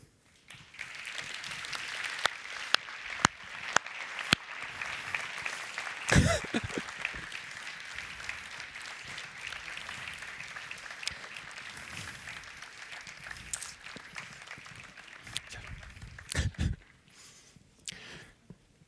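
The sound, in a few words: audience applause for conference organizers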